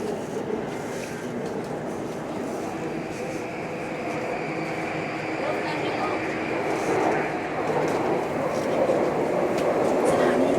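Continuous rumble of a subway train in motion, steady and fairly loud, growing slightly stronger toward the end.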